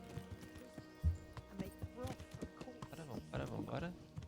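Horse hooves clopping in the medieval video game Kingdom Come: Deliverance, a quick run of soft clip-clop beats under near-constant talk.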